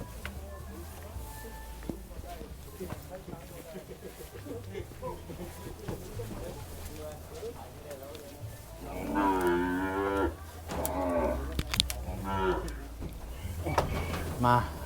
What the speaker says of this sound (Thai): นี้เป็นวัวอะไรครับวัวตำเมินครับตำเมิน แต่เป็นไทยกลางลูกผสมเนี่ย